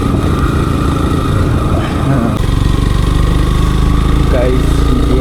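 A motorcycle rides along a road toward Kaiwara Betta hill near Bangalore, its engine a loud, steady drone with wind noise, while a voice talks over it.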